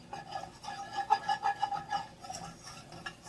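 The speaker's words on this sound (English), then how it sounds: "I'm just going to sprinkle some of this flour in here and just whisk" A whisk works flour into sausage gravy in a pan over medium-low heat, a soft rhythmic scraping and rubbing that repeats in quick strokes, low and close.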